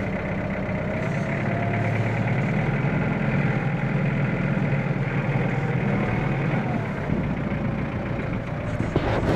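A tractor engine idles on a farm with a steady, low mechanical rumble. It sounds close and stays fairly constant throughout, with no one speaking over it.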